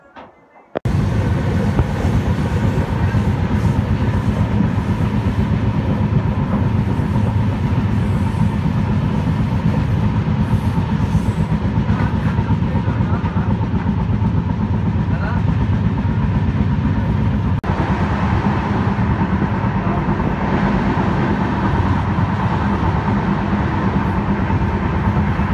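Bangalore–Howrah Duronto Express train running at speed, a steady loud rumble and rattle heard from inside the carriage, continuous for the whole stretch with a slight shift in tone partway through.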